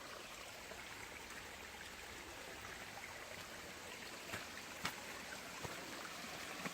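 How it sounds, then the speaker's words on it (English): A stream flowing at a crossing on the Appalachian Trail near Greasy Creek, a steady broadband rush of water heard alone, with a few faint splashes or footfalls near the end. "Another stream crossing."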